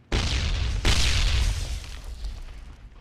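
Grenade blasts in a video game, two loud, close explosions about a second apart, each a sharp burst followed by a rumbling tail that fades out over the next two seconds.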